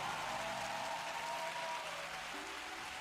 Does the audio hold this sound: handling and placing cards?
no